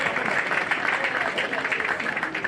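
An audience at a graduation ceremony in Abuja gives a dense, even round of clapping for the Director General, steady and moderately loud across its short length.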